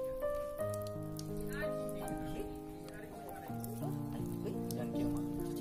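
Steady rain patters in the background while music with sustained tones and a voice play over it.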